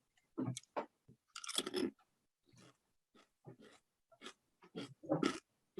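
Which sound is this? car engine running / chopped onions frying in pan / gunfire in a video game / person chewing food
person chewing food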